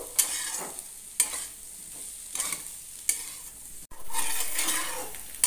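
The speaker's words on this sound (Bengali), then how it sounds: "এবার খুন্তি দিয়ে ভালো করে আরেকটু নাড়াচাড়া করে নেব" A spatula stirs spicy potato fry in a pan in several distinct scraping strokes, with soft sizzling between them and no talking.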